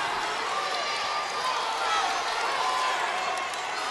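Spectators at a high school wrestling match cheer and shout in a steady, lively wash of crowd noise, with a commentator talking over it.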